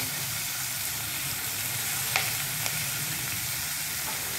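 Green chili sizzling in hot oil with a pinch of hing, a loud steady close frying hiss with a couple of faint spoon ticks, no talking.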